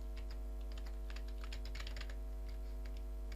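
Computer keyboard typing, a quick burst of keystrokes, quiet and close over a steady low hum, with no voices.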